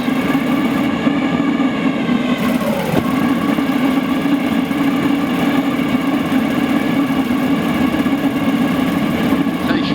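Small tabletop waste oil burner running with a steady, loud roaring drone that holds constant throughout, with someone talking over it.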